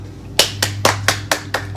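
Hands clapping, seven crisp claps in a steady rhythm, close and loud over a low constant hum, no talking.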